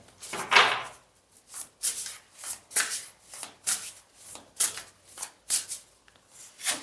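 Tarot cards being shuffled by hand, a steady series of crisp riffling bursts repeating roughly every half second, close and clear with no talking.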